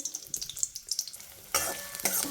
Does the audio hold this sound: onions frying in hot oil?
yes